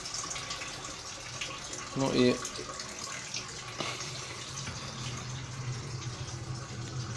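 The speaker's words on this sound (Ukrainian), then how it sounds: "Ледве йде строєчка. Фактично її ледве що дзюркотить." A thin stream of water running from a tap under low water pressure with a double-circuit boiler, heard as a steady faint trickle and hiss. Someone says a few words briefly.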